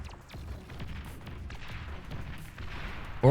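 Bombers get shot down during a Beyond All Reason strategy battle: a low, rumbling stretch of distant anti-air fire and muffled booms keeps going steadily at moderate volume.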